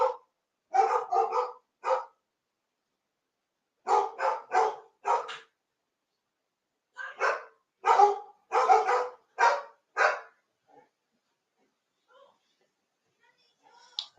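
Dogs bark in bursts of three or four quick barks, separated by pauses, fairly close and alone in a quiet room, the barking then trailing off into a few faint sounds.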